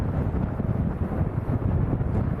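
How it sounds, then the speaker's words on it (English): Strong crosswind at Lanzarote Airport buffets the microphone, a dense, rough roar with slight gusting throughout. "Big Red says it sounds nearly as windy as Leeds Bradford."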